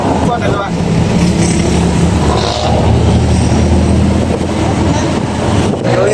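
Steady road traffic rumble with engines passing close by, a continuous low drone with wind buffeting the microphone and people talking over it.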